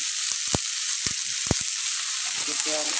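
Cauliflower and potato fry in a pan with a continuous close sizzle, punctuated by a few sharp knocks of a utensil early on and a short murmur of voice near the end.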